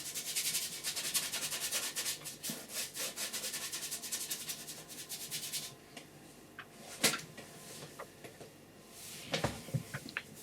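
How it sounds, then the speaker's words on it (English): A brush scrubbed briskly over dry, unprimed-feeling canvas lays on oil paint in a seascape, making steady rasping strokes for about six seconds before they thin out into a few sparse, softer scrapes. "The reason I'm scrubbing the paint on"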